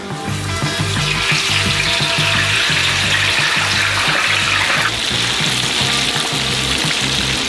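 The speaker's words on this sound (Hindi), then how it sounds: "हम अपने आलू को गरम तेल में डुबोएंगे।" Potato fries dropped into hot oil in a giant deep fryer give a steady, loud, broadband bubbling sizzle that runs unbroken through the whole stretch, with no voices.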